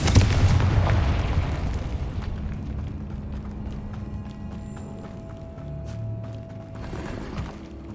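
Confringo fire spell in a wizard video game, a heavy booming blast up front that rolls into a long rumbling decay with scattered debris clatter, loud and close.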